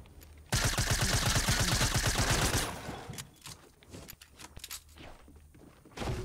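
A dense burst of automatic gunfire in Fortnite, loud and rapid for about two seconds, then scattered single shots and clatter trailing off, no talking over it.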